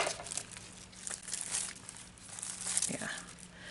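Scissors cut open the plastic packaging around a pack of toner-printed acetate transfer sheets, giving close, continuous crinkling and rustling with no talking.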